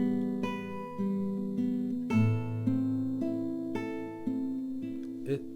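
A guitar plays the opening of the second part of an anonymous waltz, a clear sequence of plucked notes and chords in an even three-beat lilt, close and alone.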